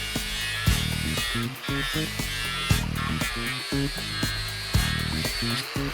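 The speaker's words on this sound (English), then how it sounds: "So to take the weld away, I'll start off with a 36 grit with a hard backing pad." An angle grinder fitted with a 36 grit ceramic fibre disc on a hard backing pad grinds away a carbon steel weld, a steady close harsh whir with rhythmic bursts as the disc bites.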